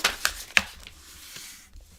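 Crisp rustling and a few sharp crackles as a sheet of glitter paper is lifted and folded over in a stamping craft session.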